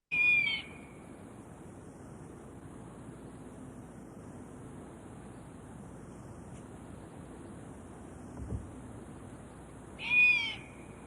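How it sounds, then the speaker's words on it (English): Juvenile great horned owls giving hoarse, screechy calls, one at the very start and one near the end, separated by a long stretch of quiet background hiss. "I just wanted to play another couple of things here, like just a great horned owl, juveniles."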